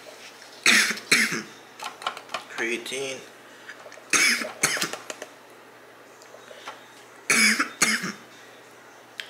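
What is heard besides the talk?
coughing after taking pre-workout powder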